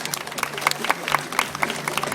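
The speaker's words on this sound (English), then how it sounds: "how about a round of applause for Maxim as well" An audience at an outdoor tiger show claps in a modest, uneven round, individual claps standing out with crowd murmur beneath, fairly near and moderately loud.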